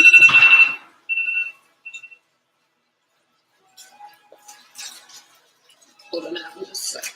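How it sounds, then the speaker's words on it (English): A loud kitchen timer alarm goes off during meal prep while sausage balls bake, with a burst of shrill beeping followed by a few shorter beeps, then scattered voices and kitchen clatter. "I feel like when you're multitasking, loud timers are a good idea"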